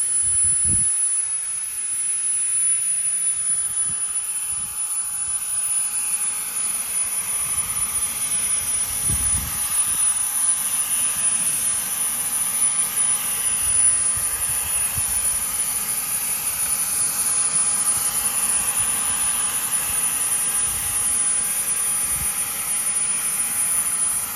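A homemade RC leaf blower built around an EDF ducted fan runs at about half throttle, giving a loud, steady jet-like whine with a high tonal edge that holds unbroken throughout, close by and with no speech.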